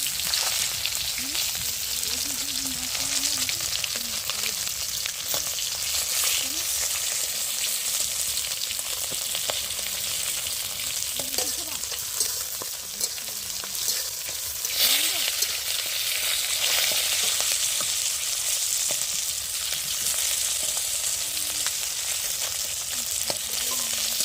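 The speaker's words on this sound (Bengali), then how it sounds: "শুকনো লঙ্কা তেজপাতা পোড়া পোড়া হয়েছে মধ্যে পেঁয়াজ রসুন দিয়ে দেবো" Onion and garlic frying with dried chillies and bay leaves in a village kitchen, a loud continuous sizzle with occasional stirring scrapes, steady for a long stretch and swelling briefly midway.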